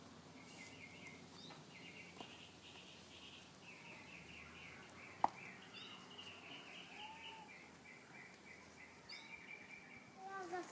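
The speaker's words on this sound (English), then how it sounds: "Well, that's a bird sound." Garden birdsong carries through faint outdoor ambience: light, repeated chirping phrases from a distance with insect-like buzzing, one sharp click midway, and quiet rustling of someone working the soil.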